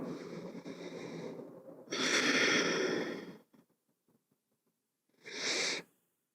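Slow, deep breaths during a guided meditation: a long audible exhale, then a fuller, louder breath, a quiet pause, and one more breath, close and unaccompanied by talk.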